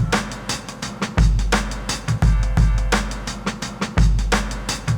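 A sampled hip-hop drum loop: booming kicks and punchy snares in a steady, dense boom-bap pattern, loud and upfront with no voices.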